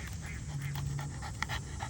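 A 17-month-old Bull Dog Terrier named Lil' Red pants steadily and rhythmically up close, with a faint whimper and a voice talking in the background.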